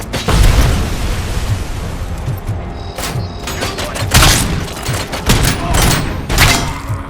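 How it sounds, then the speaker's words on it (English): Grenades and gunfire burst repeatedly in the Robocop video game, a dense run of loud booms and crackling blasts with little pause between them. "Oh, they got grenades."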